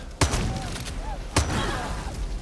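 Gunfire in Far Cry 6: two sharp broadband shots, one near the start and one a little past the middle, each followed by a low thumping tail over busy game background with some faint voice-like chatter.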